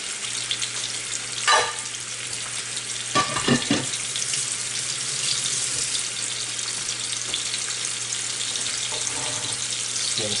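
Salmon fillets fry skin side up in a hot pan with a steady, bright sizzle that holds throughout, close and loud, broken by a few brief clinks and spatters.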